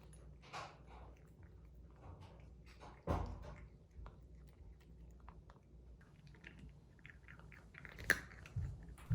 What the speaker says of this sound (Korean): 사료 씹는 소리가 너무 좋다